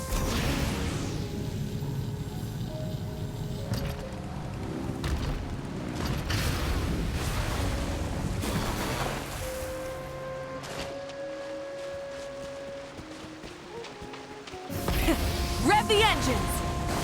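Boat engines at full throttle in Genshin Impact, heard as a loud, continuous mechanical rumble with creaks and whooshes, shifting in intensity and swelling again near the end, with voices speaking over it.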